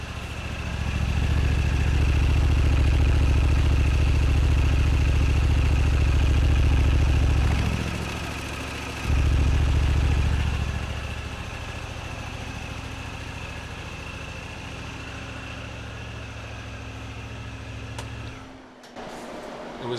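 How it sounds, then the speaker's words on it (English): Turbocharged Honda Talon side-by-side with the catalytic converter removed idles with a deep, steady engine rumble that surges loudly, drops briefly, returns, then settles to a quieter idle with a faint turbo whine. "When I added the turbo, it got super quiet."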